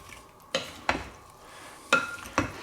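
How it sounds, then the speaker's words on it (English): Salad vegetables and herbs being tossed with dressing in a bowl: four separate clinks and scrapes of utensils against the dish, spaced apart, close and fairly quiet. "I'm just going to mix it up"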